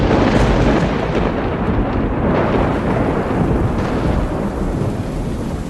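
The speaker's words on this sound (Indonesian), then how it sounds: "Rara Kuning tiba-tiba terbangun oleh gemuruh petir yang seakan membelah langit di atas samudra" Thunder rumbles over the ocean, a loud, continuous deep roll mixed with heavy rain, with no pauses and no voices.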